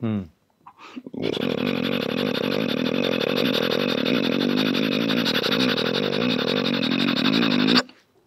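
A voice imitates a motorcycle and a train together, a sustained revving drone with a rattling chug layered over it, loud and close, ending abruptly.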